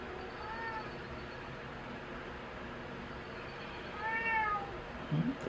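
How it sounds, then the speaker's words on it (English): Two cats meow faintly at a distance, one brief call near the start and a longer, rising one later, over a low steady background hum. "There's the kitties."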